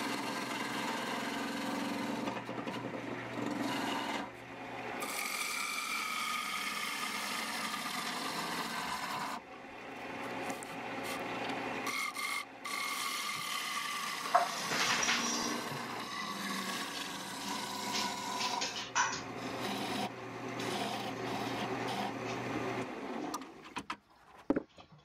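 A lathe turns the inside of a mulberry wood bowl for a candy dish, with the cutting tool working down into the bottom over a bowl tool rest. It makes a steady, close whirring hum with scraping tones, breaking off briefly a few times, and no talk.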